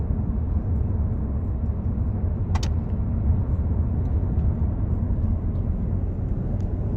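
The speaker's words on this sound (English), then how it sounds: "there's a slight bit of wind noise, and of course, there's tire noise, but that's it" Inside a Chevy Volt on the move, a steady low rumble of tire noise and faint wind noise fills the cabin without pause, with a brief click partway through and no talk.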